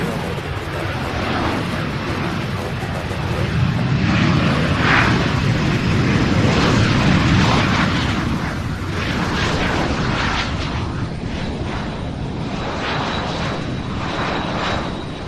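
A fixed-wing airliner at Louisville's SDF airport roars past, its broad engine rumble swelling to a loud peak midway and then easing off while staying steady and close.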